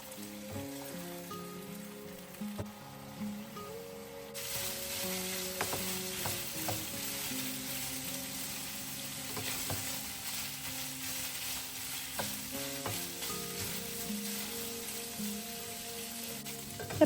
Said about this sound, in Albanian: Do vazhdojmë të skuqim për disa minuta.